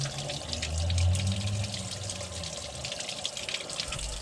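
Water gushes from a garden hose flushing out the cooling passages of a V6 Commodore engine during a water pump and thermostat change, a steady close hiss that is slightly louder near the start.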